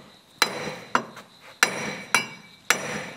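A hammer whacks a 2014-2019 Chevrolet Silverado wheel hub bearing out of its knuckle: five hard metallic strikes at uneven intervals, each with a short ringing clink, loud and close with no talk.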